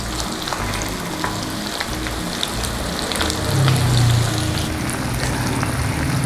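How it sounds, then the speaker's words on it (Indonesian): Cireng, a tapioca snack, sizzling and frying steadily in hot oil, a dense crackling hiss throughout with a brief low hum partway through. "Kita mau panaskan minyak. Kita mau goreng cirengnya."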